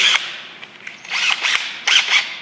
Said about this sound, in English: the countersink bit is going to go in the drill